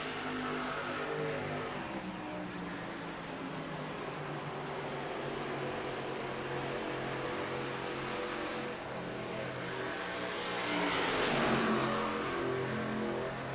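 Sim-racing cars circling Kentucky Speedway in a K&N Series race, a dense layered drone of engines at steady pitch with a louder car sweeping past near the end, no voices.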